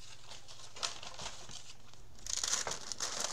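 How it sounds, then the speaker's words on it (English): Gift wrap paper crinkles and rustles as it is handled for a sewn journal cover, a steady close papery texture that grows louder and busier toward the end, with no talking. "Gift wrap can be a little bit annoying to work with because it rolls on you"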